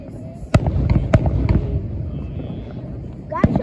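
Fourth of July fireworks in Bethlehem, Pennsylvania burst in several sharp, loud bangs spread across the moment over a constant crackling rumble of distant explosions, with people's voices faintly in the background.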